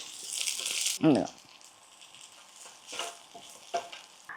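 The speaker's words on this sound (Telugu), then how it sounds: "ఇప్పుడు ఉల్లిపాయ వేసేస్తున్నాను. సన్నగా పొడుగ్గా కోసిన మీడియం సైజు ఉల్లిగడ్డ ఒక్కటి." A medium onion, sliced thin and long, hits hot oil with garlic in a pan, producing a loud sizzle that flares up and then settles into a quieter, uneven frying crackle.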